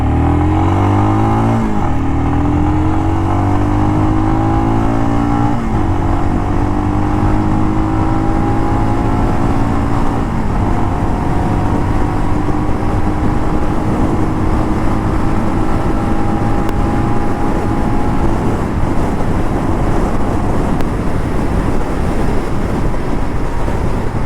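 A Royal Enfield Scram 411 motorcycle engine revs hard and pulls through rising gears, loud and continuous for the whole stretch with steady wind rush and no talking.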